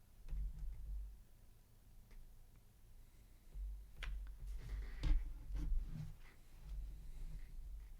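A pen writes on a sheet of paper at close range, quiet scratchy strokes and small taps in short bursts over a low steady hum.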